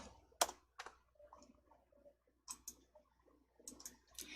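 Quiet mouse clicks at a computer while Excel gradient options are being set, a few soft, scattered clicks spread unevenly across the stretch with near silence in between.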